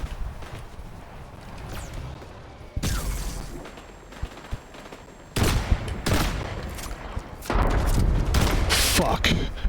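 Gunfire from a weapon in the video game Fortnite, sharp bursts of rapid shots in several loud clusters with quieter gaps between, mixed with in-game sound effects.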